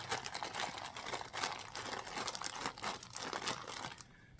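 Plastic bag crinkling and rustling continuously while oil is worked by hand into a homemade foam air filter inside it, close and fairly soft, with brief crunchy bursts before it stops near the end.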